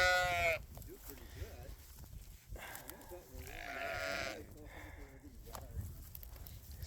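Sheep bleat around a hurt ewe, several wavering calls at close to middle distance over rustling, with a person talking quietly between them.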